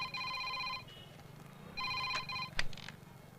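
Telephone ringing in a Telugu film scene, two bursts of electronic bell-like trills, moderately faint over a low background hum, with a sharp knock near the end.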